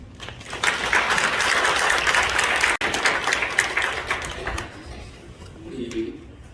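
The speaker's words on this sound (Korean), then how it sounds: "우리 목사님 나오실 때 그 박수 맞아드리도록 하겠습니다" A church congregation at an anniversary ordination thanksgiving service applauds steadily, a dense wash of clapping that thins out toward the end, with a voice faintly audible near the close.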